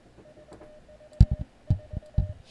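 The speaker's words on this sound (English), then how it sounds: "So it's sending Morse code." An Elecraft K2 radio sends Morse code as a faint, steady tone in short and long bursts, nearly covered by louder dull thumps from a key being tapped by hand.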